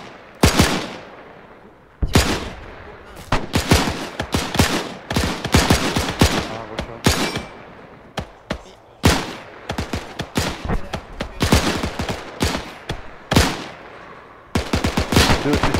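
Gunfire in ArmA 3 during a WW2 Normandy scenario comes as rapid bursts and single sharp shots in irregular clusters, loud and close, with brief pauses between volleys.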